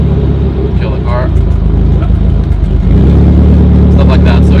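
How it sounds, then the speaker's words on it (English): Nissan 240SX S13 engine idling roughly and loudly up close before it changes character as the fuel pump is cut, the motor stumbling while someone talks over the steady low drone. "we can kill the fuel pump. So kill the car."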